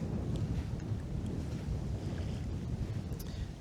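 Steady wind rumbles and buffets the microphone on the Dnipro river during evening fishing, a low continuous roar with no voices.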